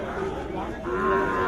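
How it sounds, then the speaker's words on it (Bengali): A Sahiwal bull calf at a cattle market gives a single long, loud, close moo with a low, droning tone that rises slightly toward the end. "শাহিওয়াল জাতের ষাঁড় বাছুর"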